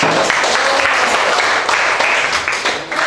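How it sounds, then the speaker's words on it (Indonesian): Applause from a classroom of students, a steady dense wash of many hands clapping at moderate loudness that holds for about three seconds before easing slightly at the end. "Oke, kita beri aplaus untuk."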